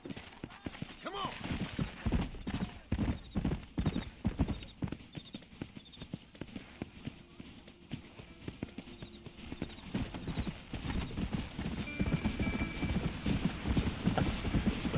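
Horse hooves clip-clop in a quick, steady rhythm throughout, close and fairly loud over a background hum, with occasional faint voices, in the video game Red Dead Redemption 2.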